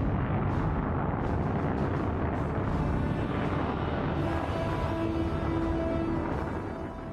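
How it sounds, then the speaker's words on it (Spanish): The Apollo 11 lift-off in Florida in July 1969, at dawn, sounds as a massive rumbling roar with crackling bursts, loud and sustained, then fades slightly toward the end. "La tranquilidad de la madrugada se ve sacudida por una enorme explosión."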